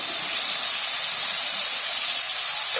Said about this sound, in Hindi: बस इन मसालों को हम भून लेंगे अच्छी तरह से